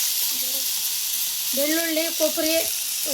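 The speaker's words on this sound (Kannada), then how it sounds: "ಎಲ್ಲ ಫ್ರೈ ಮಾಡ್ತಾ ಇದ್ದೀನಿ" Garlic, coconut, coriander leaves and spices frying in a pan give a bright, continuous sizzle, with a voice speaking briefly over it.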